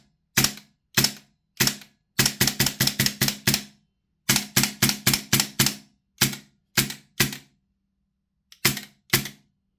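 VFC APFG MCX Rattler gas blowback airsoft rifle firing, sharp close snapping shots singly and in quick rapid bursts, with brief pauses between strings.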